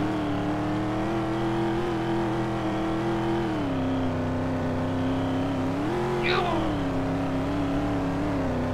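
Car engine in the Roblox game Westover holds a steady droning rev with a dip near the middle and a brief whining rise toward the end, continuous and fairly loud.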